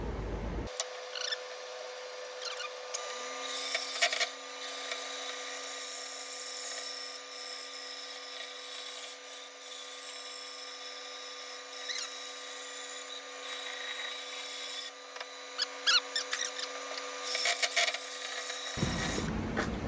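A power saw, a bandsaw by the setup, whines steadily while ripping wood boards down to 3/8 inch for a bent wood guitar stand, giving a long, continuous close buzzing cut with brief rises in the grinding.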